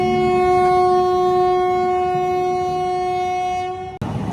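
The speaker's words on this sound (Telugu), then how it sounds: "ప్లాట్ఫామ్ నెంబర్ 1లో ఏదో ట్రైన్ ఇప్పుడే బయలుదేరిపోతుంది" A departing train at Rajahmundry station platform 1 sounds one long, loud, steady horn blast that cuts off abruptly near the end.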